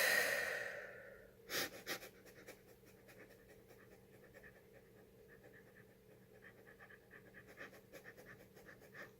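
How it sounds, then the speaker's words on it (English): Rapid, shallow breath-of-fire breathing exercise: a quick, steady train of short panting exhalations, close and fairly quiet, following a brief louder breath at the start, with no talk. "the point is it's a rapid breath"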